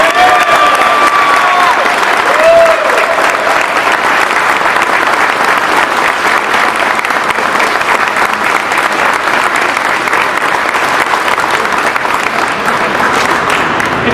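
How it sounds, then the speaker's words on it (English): A crowd at a Navy meritorious advancement ceremony applauds continuously for a new second-class petty officer, loud and steady throughout, with a few faint cheers mixed into the dense clapping. "So a round of applause for the Navy's newest second-class petty officer, Rebecca Balderas."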